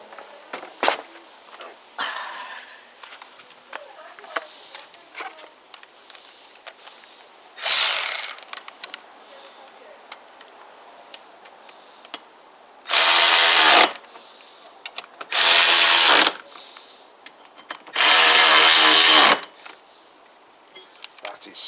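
Power tool tightening the bolts of a Givi rack being fitted to a Suzuki Burgman 650 Executive scooter, loud short bursts spaced apart among quieter clicks and handling noise.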